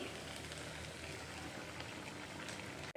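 Egg bhuna and bitter gourd bhaji cooking in a home kitchen, giving a steady, even sizzle and bubbling hiss that holds for the whole stretch and cuts off abruptly at the end.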